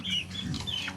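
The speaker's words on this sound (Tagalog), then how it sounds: "Yan yung mga manok nilang alaga" Chickens raised by a household make soft, brief clucks and chirps, faint against a low background murmur.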